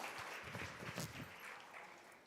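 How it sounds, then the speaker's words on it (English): A conference audience applauds a panel in a short burst of clapping that starts strong and fades over a couple of seconds. "A round of applause once again for this amazing panel."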